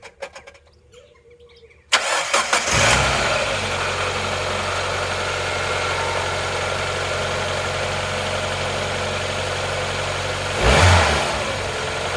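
After a quiet moment, a Mazda MX-5 engine cranks and catches after a coolant leak repair, then settles into a steady idle, with one brief rev near the end.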